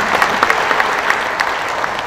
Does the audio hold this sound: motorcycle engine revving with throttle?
no